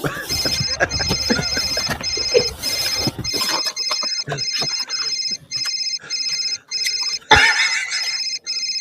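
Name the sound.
flip phone ringing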